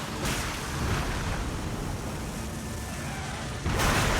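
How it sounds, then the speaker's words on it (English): A huge explosion in an Elden Ring boss fight: a dense, roaring broadband blast sustains for several seconds, then swells again near the end, loud and close with no talk. "Okay, huge explosion there."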